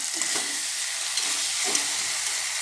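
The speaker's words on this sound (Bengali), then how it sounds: "এই যে সুন্দর করে আমি নাড়িয়ে নিচ্ছি দেখুন" Tomato and onion sizzle steadily in a frying pan, with a few soft stirring scrapes over a constant hiss, close and fairly loud.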